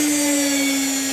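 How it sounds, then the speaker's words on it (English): A washing machine motor rewired as a high-speed induction motor spins fast on a 300 hertz supply, giving a steady, loud, piercing whine with a strong unwavering tone over a bright hiss and no pauses. "So, that's my washing machine motor. It spins very fast."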